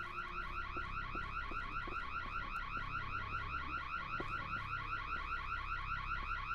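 A continuous alarm wails in a video game, a fast rapidly pulsing electronic tone that repeats without pause at steady moderate loudness, with faint clicks and low rumble underneath.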